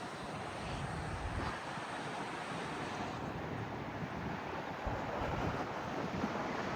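Pacific Ocean surf breaking along the coast at Half Moon Bay, California, a steady broadband wash of waves with wind buffeting the microphone, continuous and fairly loud with no voices.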